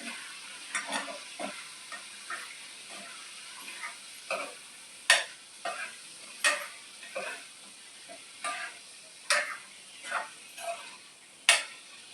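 Chicken pieces frying in masala in a kadai, stirred with a spoon that scrapes and clinks against the pan in irregular bursts over a steady, soft sizzle, close by with no talking.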